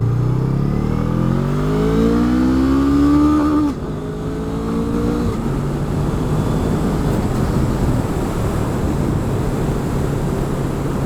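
Honda Rebel 500 motorcycle engine revving hard toward its low red line, a rising, loud, close whine that cuts off abruptly, then settles into a rougher, lower running rumble with wind.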